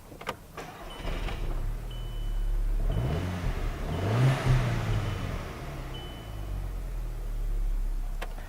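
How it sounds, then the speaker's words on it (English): A Golf GTI car engine cranks and catches after a spark plug and ignition coil change, then revs up and settles into a steady, close idle with no talking. "Now we can start the engine and make sure that everything's okay."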